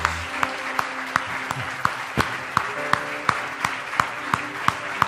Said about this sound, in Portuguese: Vamos aplaudi-lo, Ele merece